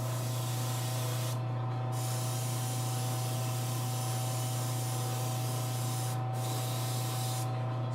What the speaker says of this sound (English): So I'm gonna hit it with some matte varnish.